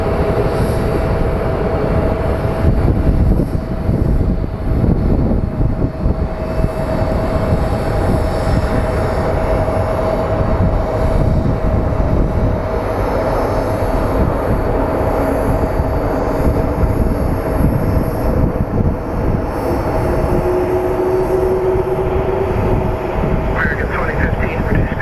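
A Frontier airliner lands at Phoenix Sky Harbor airport with a continuous broad roar held for the whole stretch, while a voice talks over it.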